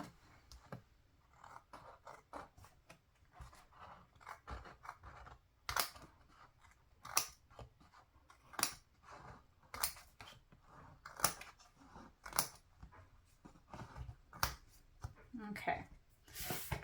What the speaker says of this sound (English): Take my little scissors,